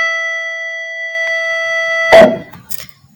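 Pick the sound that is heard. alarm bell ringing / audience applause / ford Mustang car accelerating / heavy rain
alarm bell ringing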